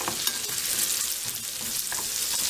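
Vegetables are lightly fried in a pan, giving a quiet, steady sizzle with faint clicks of stirring scattered throughout, close by and without talking.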